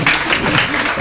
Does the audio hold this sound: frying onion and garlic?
no